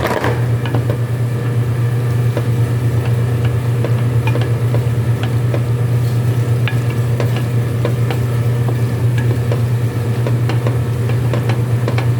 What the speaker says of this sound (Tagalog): Yan, ihalo na natin ang macaroni.